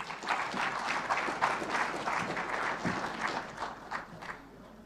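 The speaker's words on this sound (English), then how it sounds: "the technical and commercial bid team deserve a louder round of applause" Steady, fairly loud applause from an audience at a commercial bid conference, a dense crowd of hands clapping continuously for several seconds.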